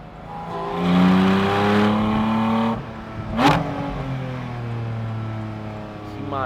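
A 2024 Porsche 718 Spyder RS convertible accelerates hard through its gears on a São Paulo street, its engine note climbing loudly and dropping at each upshift before settling into a steady drone.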